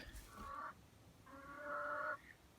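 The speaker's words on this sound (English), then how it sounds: "And so that's the inside of the chicken coop." Hens cluck inside a backyard chicken coop: two clear, nasal calls, one short and one drawn out, close to the listener with no voices over them.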